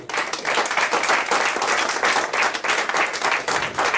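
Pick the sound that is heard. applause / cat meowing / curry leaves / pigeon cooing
applause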